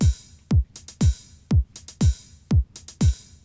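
Programmed drum pattern on a Roland JD-Xi at a steady tempo, with a punchy, prominent bass drum on every beat and crisp open hi-hat hits between the beats, loud and alone.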